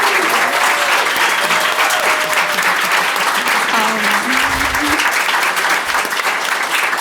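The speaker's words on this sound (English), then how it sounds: "so can we just give a round of applause to" Loud, sustained round of applause from an audience at a Female Founders event featuring Olympians, thick continuous clapping with a few faint voices underneath.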